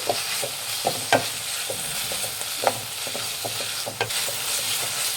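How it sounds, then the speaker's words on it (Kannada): Coriander leaves and mint fry in a pan for masala chitranna. A spatula stirs them in an irregular rhythm of close scrapes and knocks over a steady, moderate sizzle, with no voices. "ಕೊತ್ತಂಬರಿ ಸೊಪ್ಪು ಸ್ವಲ್ಪ ಫ್ರೈ ಮಾಡಬೇಕು"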